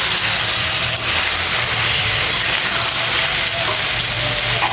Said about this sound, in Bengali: এখন আমি একটু নেড়ে চেড়ে তারপরে কিন্তু গরম জলটা দিয়ে দেবো